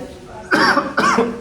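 Two short, harsh dry coughs from an irritated throat close to the listener, one right after the other, over a quiet background.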